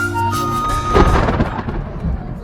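Thunder rolls loudly over falling rain, a single rumbling crack building then fading across a couple of seconds.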